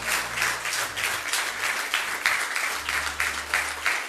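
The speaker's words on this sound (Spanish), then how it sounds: "dele un aplauso a Dios" A church congregation bursts into applause during a sermon, steady dense clapping that holds at the same level throughout with a low hum beneath.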